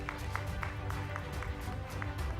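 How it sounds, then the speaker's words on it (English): Audience applause at a felicitation award ceremony during a tech summit in Chennai, a steady patter of many hands clapping at a moderate distance, with faint voices underneath. "Round of applause for Mr. Suresh, please."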